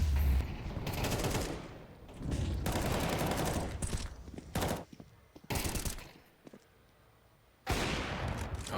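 Bursts of gunfire ring out in a Counter-Strike match at the StarLadder Budapest Major, including AWP sniper shots, as sharp loud reports in several clustered volleys separated by brief quieter gaps.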